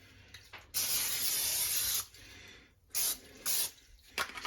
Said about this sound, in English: I'll spray it with a little Pam.